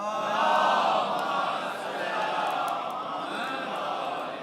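A congregation at a religious gathering in Muzaffarpur, Bihar, chants a salawat response in unison, a loud, sustained mass of voices that swells early and then holds steady.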